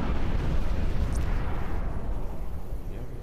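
A loud, sustained rumbling blast with a broad roar that slowly fades, a heavy gunshot in the game Crysis.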